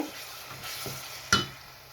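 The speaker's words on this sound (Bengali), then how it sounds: "এখন আমি একটু মশলাটা ভালো মতো একটু কষিয়ে নেব" Garam masala spices sautéing in a pan make a soft, low sizzle near the cook. A single sharp metallic clank of a spoon cuts through partway, then the frying settles back to a quiet hiss.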